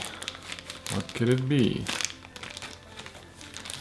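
A black plastic bag package crinkles and rustles close up as it is opened, in short bursts with a louder stretch in the middle, while a person talks over it.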